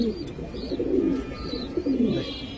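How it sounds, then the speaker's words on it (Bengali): Soft, throaty coos of large pigeons at a pigeon farm in Mirpur 13, Dhaka, repeat in low rolling phrases, close by, with faint chirps and a light background rustle. "দেখেন দর্শক সাইজগুলা দেখেন, কত বড় সাইজের কবুতর।"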